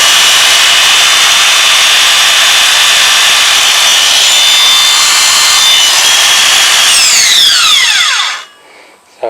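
Makita BSS611Z cordless 6-1/2 inch circular saw running freely with no cut, a loud steady high whine for about eight seconds, then winding down quickly with falling tones into quiet.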